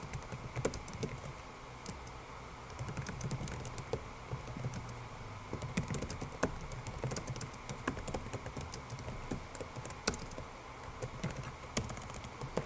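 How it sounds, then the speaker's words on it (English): Fingers type a paragraph on a computer keyboard, a quick irregular patter of close key clicks running continuously without speech. "We're going to type out a little paragraph of information."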